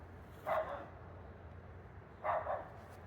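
A dog barks twice, well apart, at a moderate distance in a cemetery, over a low steady background hum.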